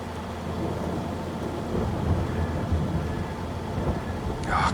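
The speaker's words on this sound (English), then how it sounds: "literally on the day that we're ready to harvest, and it rains" Steady rain with a low rumble of thunder in Farming Simulator 22, a constant broadband wash that grows slightly louder toward the end.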